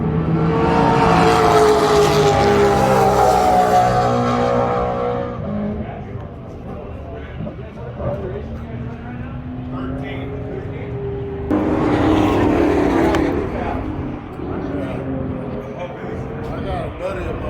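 An engine-swapped BMW race car on a track roars past with rising revs, fades, then surges loud again, while people talk excitedly over the engine noise.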